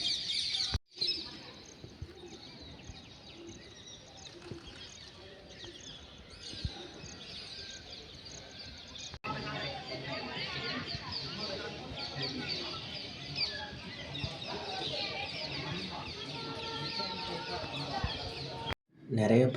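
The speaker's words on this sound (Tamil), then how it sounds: "தஞ்சாவூரில் இருக்க மொத்த கிளிகளும் இந்த கோயிலில் தான் இருக்கும் போல்" Parrots and pigeons at Thanjavur Big Temple give busy, overlapping chirps and calls throughout, louder and denser in the second half, with a murmur of voices and outdoor bustle underneath.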